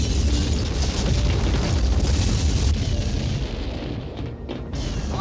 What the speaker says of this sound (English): The fortress is destroying itself!